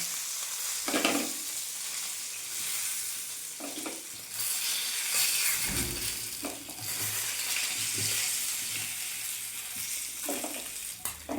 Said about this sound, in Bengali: এই যে আমার মাছ ভাজাগুলো রেডি হয়ে গেছে